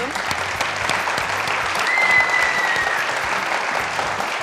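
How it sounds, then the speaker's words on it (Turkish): An audience applauds steadily and fairly loudly as a business holding's chairman is welcomed onto the stage of a Turkish entrepreneurship TV show, the clapping swelling slightly midway and continuing without pause. "yine büyük alkışlarınızla sahnemize alalım"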